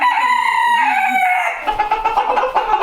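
Rooster crowing in a chicken coop during a winter storm, one loud, close crow followed by softer clucking from hens and fowl.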